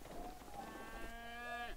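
A cow moos once in the fantasy role-playing video game Icewind Dale, a drawn-out, nasal in-game lowing with a rising harmonic tone that swells near the end, heard alone over faint background ambience.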